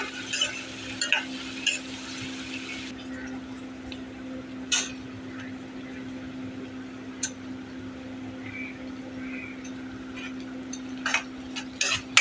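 Green chillies fry in a pan for a prawn and ridge gourd curry with besan, with intermittent spatula scrapes and clacks over a soft sizzle and a steady low background hum.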